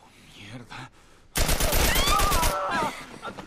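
Sudden loud burst of rapid automatic gunfire from The Last of Us video game, a dense fusillade lasting over a second, with quieter game sounds before and after.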